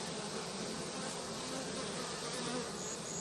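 Honeybee drones droning steadily at a hive entrance, a dense continuous buzz of many insects close by, even and unbroken throughout.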